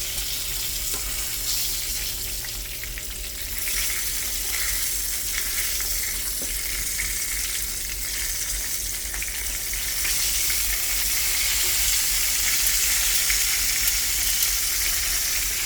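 Trout fillets frying in a pan give a loud, continuous crackling sizzle that holds steady throughout and grows slightly brighter toward the end, with no talking over it.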